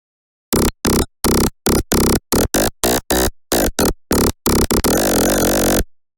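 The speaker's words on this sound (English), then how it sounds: "create a saw base patch which sounds like" A saw bass patch built in the Serum synthesizer plays as loud, buzzy, harmonically dense stabs in a choppy rhythm of short bursts with silent gaps, ending in one longer sustained note, with no talking.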